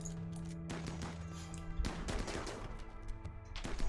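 Gunfire against small dinosaurs in the colony game Rimworld, a few loud separate blasts with decaying tails spaced a second or two apart, mixed with game ambience and no speech.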